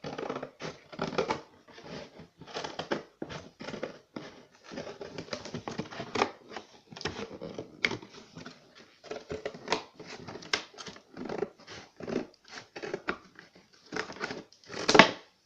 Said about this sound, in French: On va juste découper le couvercle.